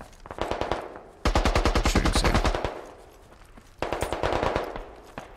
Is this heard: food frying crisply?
no